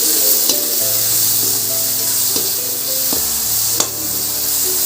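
Pasta sauce with tomatoes and cumin powder sizzles steadily in a pan while being stirred, a loud continuous frying hiss with occasional spoon scrapes and clinks, no voices.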